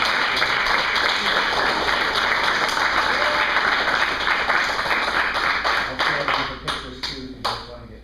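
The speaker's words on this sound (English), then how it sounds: "Clap again for our juniors." An audience claps for junior students at a martial arts green belt testing, a dense steady round of applause that thins into scattered, separate claps near the end, with some voices mixed in.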